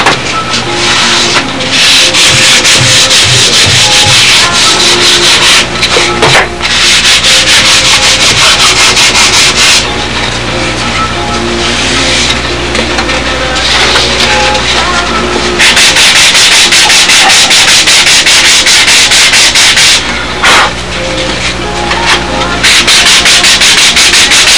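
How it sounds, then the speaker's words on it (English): Dremel saw grinding through the hinge line of a model aircraft tail surface, a loud continuous rasping whine that pauses briefly a few times and resumes, with no talk over it. "take it out with the Dremel tool, with the Dremel saw."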